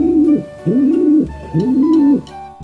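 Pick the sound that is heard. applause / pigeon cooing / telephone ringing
pigeon cooing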